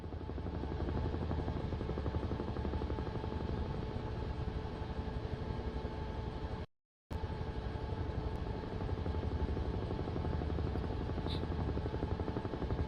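A Falklands War video game helicopter flies steadily with a loud, continuous rotor chop and engine drone, close up. The sound cuts out briefly in the middle and then resumes unchanged.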